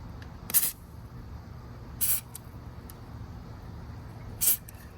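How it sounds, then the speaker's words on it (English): WD-40 sprayed onto a coolant crossover pipe connected to the supercharger of an Audi B8 S4, three short sharp hissing bursts spaced a second or two apart against a quiet background. "Spray some WD-40 on there real quick first."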